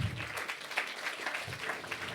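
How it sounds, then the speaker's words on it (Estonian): An audience at a live Estonian comedy talk show applauds a guest, a steady, even spread of clapping from a moderate crowd, continuous with no voices on top. "Teeme aplausi Kaine Roolile."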